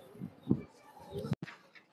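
A male pigeon at a home loft gives a few low, soft coos, two fuller notes standing out against faint background noise, close by.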